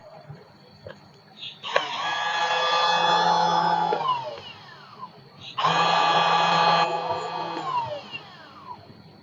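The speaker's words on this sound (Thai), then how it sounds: "เดี๋ยวลองใส่แบตเตอรี่แล้วก็ฟังเสียงมอเตอร์กันก่อน" Electric motor of a cheap battery-powered grass trimmer spins up twice, each run a smooth, steady whine with a rising onset and a falling wind-down, close and fairly loud, with a short pause between runs.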